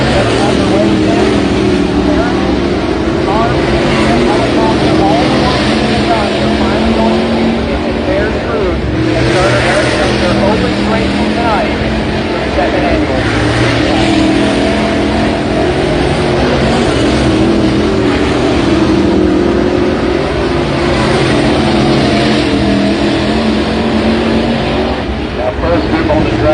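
602 late model sportsman race cars qualifying at a raceway, a loud continuous engine roar at wide-open throttle that holds steady throughout, with an announcer talking over it.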